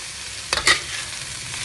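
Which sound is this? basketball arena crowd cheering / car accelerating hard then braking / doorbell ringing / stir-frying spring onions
stir-frying spring onions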